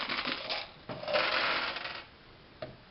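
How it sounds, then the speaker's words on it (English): Dice rattling and tumbling in a Farkle game, a few clattering bursts with a clicking settle and one brief click near the end, close and moderately loud. "So let's play a little Farkle and see how the dice actually roll."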